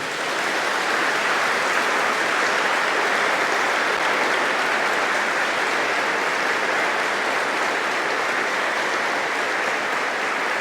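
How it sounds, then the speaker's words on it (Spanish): Steady, dense crowd applause filling the whole stretch, loud and continuous with no voices rising above it. "Un aplauso para el Papa."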